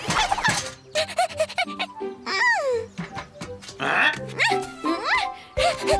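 Cartoon dog barks from the animated series 44 Cats, short yelping barks mixed among lively character voices, sound effects and music, loud and busy throughout.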